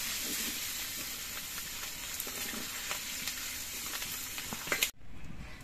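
Fish heads sizzling and crackling as they fry in hot oil, a steady close hiss with light stirring clicks, ending in a sudden drop near the end.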